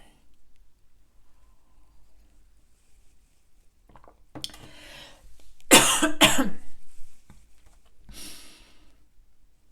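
A person lets out a fit of harsh, close coughs mid-clip, preceded by breathy sighs and throat sounds, then a softer exhale trailing off in a quiet room.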